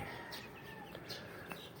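Chickens and roosters in a pen on a farm, with faint clucks and calls scattered over a steady background hiss, somewhat distant.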